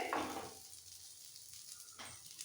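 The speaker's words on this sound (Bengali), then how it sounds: "এইভাবে একটু উল্টে পাল্টে ভেজে নিলেই হবে" Parshe fish coated in masala fries on a tawa in a little oil, giving a soft, close sizzle that swells briefly as the pieces are turned, then settles into a faint hiss.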